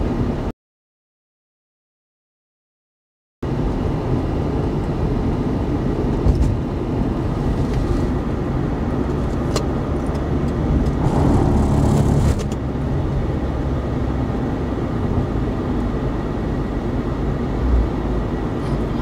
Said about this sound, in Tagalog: Tignan mo naman ang haba ng traffic sa kabila talaga.